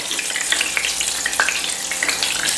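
Lemon pepper chicken wings frying in a hot deep fryer, a steady dense sizzle with constant crackling and popping bubbles, close and continuous throughout.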